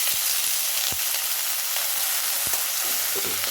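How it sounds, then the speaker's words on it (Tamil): Pirandai, or adamant creeper, sautés in a kadai with a dense, continuous sizzle and a few sharp clicks as it is stirred, close and steady throughout without speech. "இப்போ கடாயில் நல்லா விட்டுருக்கேன் இப்போ நம்ம இதை வதக்கி எடுத்துக்கலாம்"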